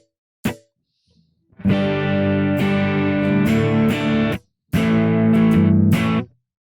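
Guitar with the reverb pedal switched off: one short plucked note, then strummed chords that stop abruptly with no lingering tail, a brief gap, and another dry strummed passage.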